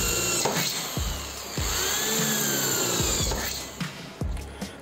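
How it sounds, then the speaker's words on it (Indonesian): Bosch GBM 350 electric drill boring into hollow steel with a 4 mm bit, a steady high whine under load punctuated by several short clunks and pauses as the bit bites and is repositioned. "besi holo menggunakan mata bor 4 mili. Lancar ya rekan-rekan ya, tidak ada masalah. Kita gunakan untuk mengebor seperti ini"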